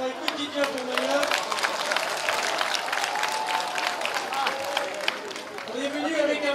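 An outdoor crowd in a public square in Mamoudzou, Mayotte, applauds steadily with dense, continuous clapping, while voices and cheers carry over it throughout.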